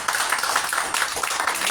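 A church congregation applauds in a dense, steady patter of many hands clapping together. The clapping is continuous and moderately loud through the brief stretch.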